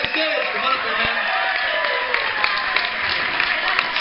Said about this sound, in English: Let's give Junior a big round of applause because he makes his way to the stage.